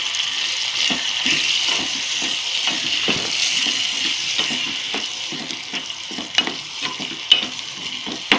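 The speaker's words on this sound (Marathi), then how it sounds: "स्वच्छ धुवून ठेवले आणि हलवून घेऊया जरा।" Washed barnyard millet (bhagar) sizzles in a frying pan while a spoon stirs it, steady close frying hiss broken by scraping strokes and occasional clinks, with no talk.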